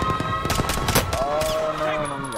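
Gunfire from Call of Duty Warzone erupts in a rapid burst of several close, sharp shots, followed by ringing metallic tones and game effects, with no speech.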